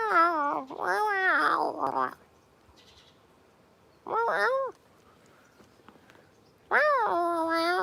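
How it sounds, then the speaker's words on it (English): A cat meowing on a street in Kanazawa's Higashi Chaya district, three loud, drawn-out plaintive meows close by, separated by quiet gaps with faint street ambience. "See if that cat's still here."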